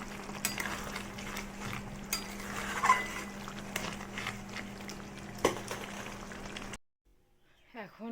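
Bottle gourd cooking with poppy seed paste (lau posto) in a home kitchen gives off a steady sizzle with scraping stirs and occasional knocks. It cuts off abruptly near the end, leaving near silence.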